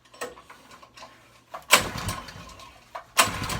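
A restored Avenger go-kart engine, fueled and choked, is cranked for its first start, giving a couple of sharp, close pull-start bursts with brief sputtering between them.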